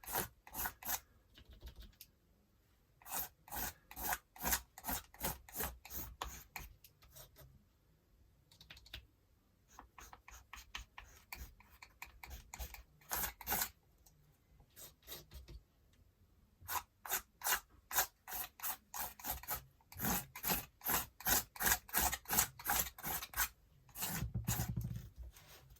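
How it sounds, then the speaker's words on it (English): Repeated rasping scrapes drawn across a collage art journal page, coming in quick close bursts with brief pauses, a few stronger strokes near the end, no voices. "Now I'm just going to scrape across the surface."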